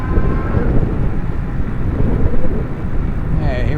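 An Euphree City Robin X e-bike accelerating at full throttle on a top speed run, a steady loud rush of motor and wind roar with a faint rising whine near the end.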